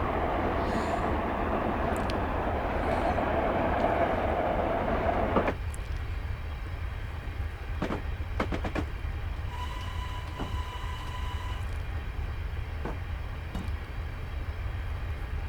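LNER V2 steam locomotive running in the game Train Simulator Classic: continuous rumbling rail and engine noise, heavier in the first five seconds, then a steadier roll with scattered clicks and a brief tone.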